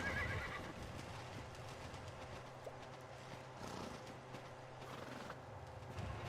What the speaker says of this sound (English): I wish this horse would just leave.